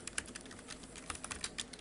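Rapid, irregular keystrokes on a computer keyboard, close and fairly quiet, with a steady run of clicks and a few sharper taps and no voices.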